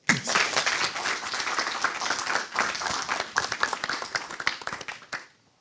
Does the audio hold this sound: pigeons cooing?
no